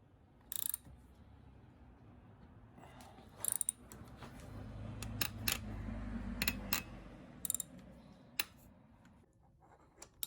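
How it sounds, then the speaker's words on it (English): A hand tool being cranked on a folding bicycle part gives quiet, close ratcheting clicks and scattered sharp metallic snaps over a low grinding rumble. "Get that in there and start cranking on it until it pops."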